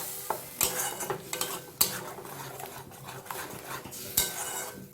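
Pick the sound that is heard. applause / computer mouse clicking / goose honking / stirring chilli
stirring chilli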